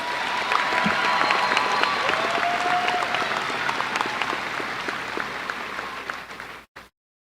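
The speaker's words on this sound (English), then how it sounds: "Please give them another round of applause." A graduation ceremony crowd applauds two student speakers, sustained dense clapping filling the hall with a few whoops and faint voices mixed in, holding steady before tapering and cutting off abruptly near the end.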